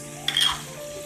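Spices for chickpea rice (green chana pulao) are stirred in a pan, a single brief scrape and sizzle burst up close over a steady low kitchen hum.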